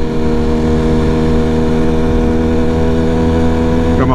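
BMW S1000RR motorcycle engine pulling away on Long Island roads, a loud close steady drone with strong harmonic tones that begin rising near the end.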